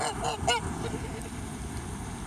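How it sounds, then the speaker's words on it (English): A goose-like bird honks a few times near the start, then the sound settles into a steady outdoor wash of water and background noise. "That's Sam squawking in the water"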